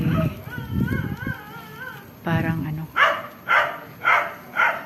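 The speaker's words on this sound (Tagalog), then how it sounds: "ingay ng aso" A dog barks repeatedly near a house on a moonlit evening walk, four loud evenly spaced barks following a stretch of talking and a whimpering, whining dog at the start.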